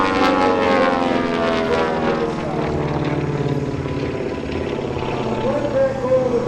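Twin Beech propeller airplane at an air show flying an aerobatic loop, its engines droning steadily and loud throughout, the pitch shifting slightly as it climbs over the top.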